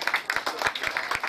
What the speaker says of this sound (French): Est-ce que vous pouvez applaudir pour elle quand même?